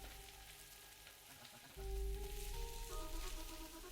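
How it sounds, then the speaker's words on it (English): Meat sizzling and frying in a pan in the video game MiSide: Zero, a steady crackling hiss that grows louder partway through, with no one speaking. "The meat's in the pan. Don't burn yourself."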